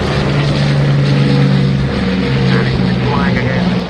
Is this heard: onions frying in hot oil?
no